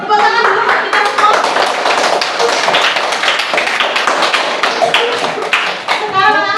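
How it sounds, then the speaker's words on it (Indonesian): An Indonesian classroom of children claps their hands together, loud, close, brisk clapping with some rhythmic bursts, children's voices calling out over it, ending in a brief pause. "Tepuk tangan dulu buat kita semua."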